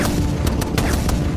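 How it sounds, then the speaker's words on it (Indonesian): Rapid bursts of gunfire from fighter jets, firing on a robot scorpion in the film Transformers (2007), crackle over a dense, rumbling action-film din, with several sharp volleys standing out in quick succession. "pesawat tempur datang dan langsung menghujani kalajengking itu dengan tembakan"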